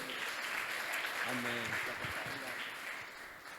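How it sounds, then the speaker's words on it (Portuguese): Church congregation applauding during a service, dense sustained clapping with a voice briefly speaking over it midway before the applause tapers slightly. "Aplauda o Senhor."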